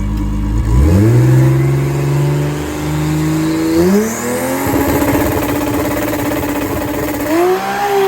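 A drag car launching on a drag strip, its engine roaring up through rapid gear changes with rising pitch sweeps, loud and close, then settling into a sustained high-revving drone.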